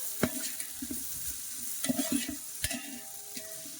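Onions frying in a pan while making mutton dum biryani, a soft crackling sizzle broken by a few sharp clicks and scrapes of stirring, close but fairly quiet, with no voices.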